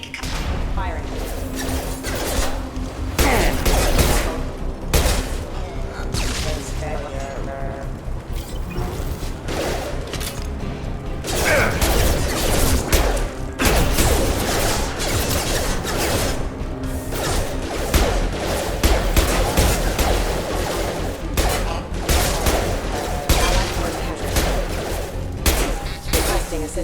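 Security mechs open fire in the Mass Effect 2 video game. Bursts of gunfire and sharp impacts repeat loudly across the whole stretch, mixed with clanking mechanical hits and a busy game soundscape.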